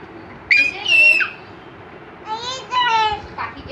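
A voice imitates bird chirping in two bursts of high, whistly, warbling calls separated by a short pause.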